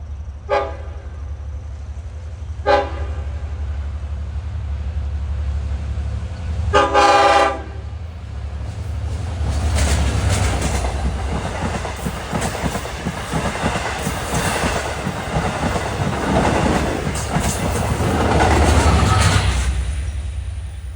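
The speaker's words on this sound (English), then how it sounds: "Coming westbound at Brentwood Road at 139 is train 13. A sandwich, engines on each end." A Long Island Rail Road eight-car sandwich train with engines on each end, running westbound at Brentwood Road, sounds several horn blasts and then rumbles loudly past with steady rail clatter.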